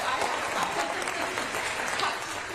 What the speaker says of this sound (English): There are only short people clapping.